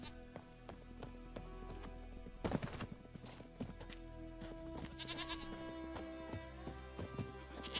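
A horse's hooves clip-clop steadily in The Witcher 3, over a busy game soundscape of music and ambient noise, with a few louder clattering hits partway through.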